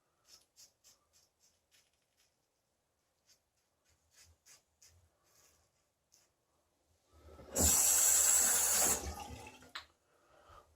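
A bathroom tap runs hard for about a second and a half for a rinse after shaving with a razor. Soft scattered taps and scrapes come before it, and a couple of faint drips follow.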